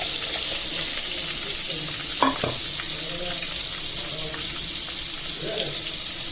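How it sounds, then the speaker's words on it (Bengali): Onion, garlic and green chili frying in a pan produce a steady, close sizzle throughout, with a brief clatter of stirring partway through and faint water-like hiss in the background. "এগুলো আগে ভালোভাবে ভাজা হয়ে যাক।"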